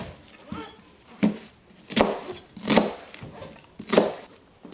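A knife chops a cold onion on a cutting board in a home kitchen, five or six steady thunks about a second apart, close and clear over faint background voice.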